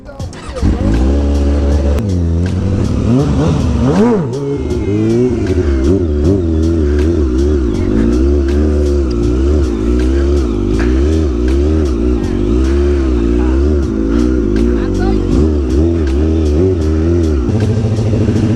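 A motorcycle rides in circles, its loud engine revving and wavering steadily up and down as it loops close by, with a voice heard briefly over it.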